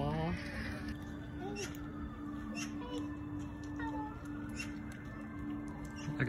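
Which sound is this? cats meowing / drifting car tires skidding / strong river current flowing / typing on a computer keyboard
cats meowing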